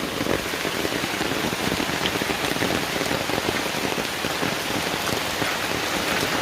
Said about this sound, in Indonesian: Hujan keras guys.